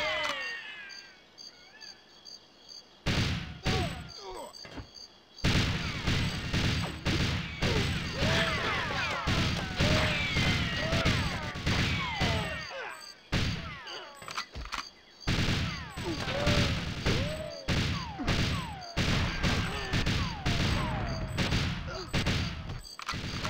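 Dense bursts of gunfire from the jungle level of GoldenEye 007, played on Xbox Series X, keep coming in rapid volleys with brief pauses, loud and close, mixed with impacts and crashes.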